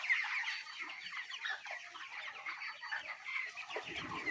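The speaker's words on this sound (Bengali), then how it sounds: "তো গাইস বলে নিই, এখানে 1000 মুরগি আছে।" Broiler chickens, about a thousand 27-day-old birds, cluck and chirp continuously inside a poultry shed: a soft, busy chatter of overlapping calls, fairly quiet and without talk.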